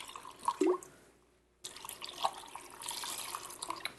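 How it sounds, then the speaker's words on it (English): Pineapple juice is splashed into a simple mixed drink at a home kitchen table: a brief liquid pour with a few drips, a short quiet pause, then a steady, moderately loud wash of trickling liquid. "Just a splash of pineapple juice,"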